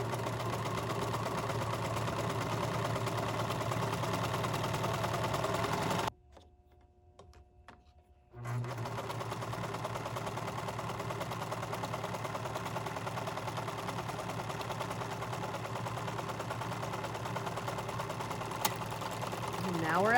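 A sewing machine runs steadily with its knife engaged, trimming hem edges as it stitches, a close continuous whirring hum that stops for about two seconds and then resumes.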